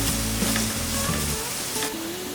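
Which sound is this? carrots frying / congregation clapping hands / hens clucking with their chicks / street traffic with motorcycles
carrots frying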